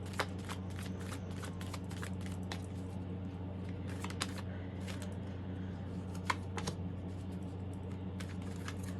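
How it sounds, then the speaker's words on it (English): A deck of tarot cards being shuffled close up, a steady run of soft riffling flutters and sharp card snaps over a low constant hum, with no talking. "One more shuffle, please."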